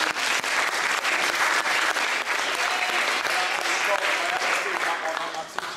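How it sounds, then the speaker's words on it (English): A crowd at an outdoor student education protest in the UK gives sustained, dense applause for school students, with a voice speaking through the clapping. "I'd like to first give a round of applause to the fantastic active citizens from the schools down there"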